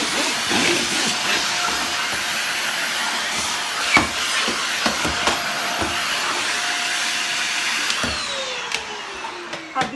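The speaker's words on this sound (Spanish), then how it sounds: "voy a pasar la aspiradora" A vacuum cleaner runs with a steady whooshing roar, punctuated by occasional knocks and bumps as it moves, and its pitch drops near the end.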